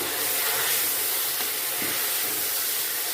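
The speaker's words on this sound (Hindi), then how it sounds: "यहाँ पर हमने एक मीडियम साइज का टमाटर ले लिया था, वो इसमें हम ऐड कर लेंगे और इसको अच्छे से मिक्स कर लेंगे।" Steady loud sizzling of mutton frying in a hot pan as a medium-size tomato is added and mixed in, a continuous hiss with faint stirring scrapes and no talk.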